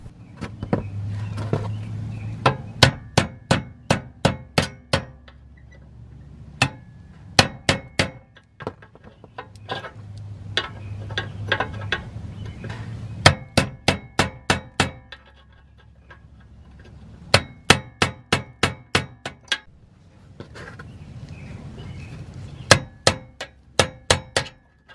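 A steel driver from a chisel set is hammered against the crank gear of a folding camper's lift mechanism. Crisp metallic strikes land in rapid clusters of five to eight blows, separated by short pauses, with a low hum between bursts.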